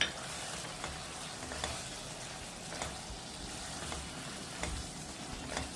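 Chicken gravy sizzling in a pan while ground pepper and masala powder are stirred in, a steady frying hiss with soft scraping strokes throughout and no talking.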